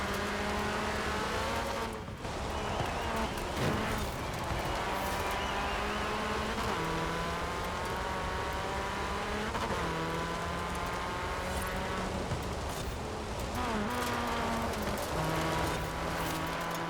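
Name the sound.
car engine while downshifting, video game Forza Horizon 4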